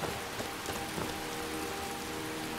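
Steady rain falls across a swampy landscape in the game Skyrim with the Wildlander mod, a continuous hiss of drops pattering on surfaces with a few brighter splashes, even and close throughout with no talking.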